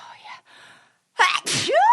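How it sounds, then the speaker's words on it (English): A short breathy inhale and hum, then a loud sneeze burst followed by a rising vocal exclamation right after it, all close up. "Oh, I have to sneeze."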